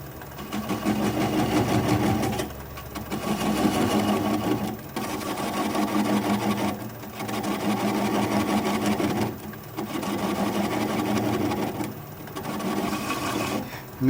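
Wood lathe spinning at about 400 RPM while a butternut bowl is turned, a steady close mechanical hum and scraping whir broken by several brief pauses as the tool lifts off.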